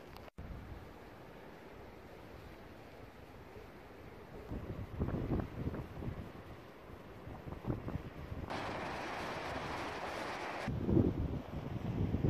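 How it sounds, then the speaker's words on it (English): Wind gusting at a cold beach campsite, with a steady windy rush that swells into louder buffeting bursts and a harsh broadband blast midway, no voices present. "You can hear the wind."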